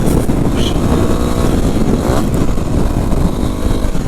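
A WR250R dual sport motorcycle pulls away on dirt trails at Carnegie SVRA, its engine a loud, steady, close drone that holds throughout with little change in pitch.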